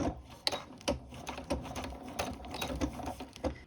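A domestic sewing machine runs slowly in short bursts, stitching in reverse at a 2.5 stitch length on a V neck, giving a soft rhythmic mechanical clatter at close range with no talk.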